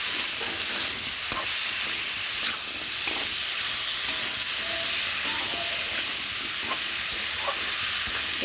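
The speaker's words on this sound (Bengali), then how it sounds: "ভালো করে কষাতে হবে।" Prawns, potato and taro frying with turmeric for a curry, a loud, steady, close hiss of sizzling oil with occasional light clicks of stirring and no voices.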